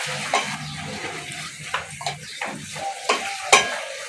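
Ridge gourd, potato and green chillies are stirred in a pan with a spatula, scraping and clinking against the metal over a low sizzle, with several distinct stirring strokes close by.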